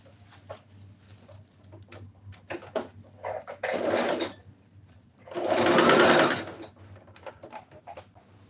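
A sewing machine stitching cloth onto a bubu dress runs in two sustained bursts, the second longer, close and loud, with light clicks and handling taps between them.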